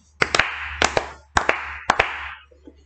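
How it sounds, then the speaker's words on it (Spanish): Sharp, close claps in four evenly spaced pairs, each pair a quick double hit with a short ringing tail, fitting clapping along in a children's song. "que aplaudan 4 veces"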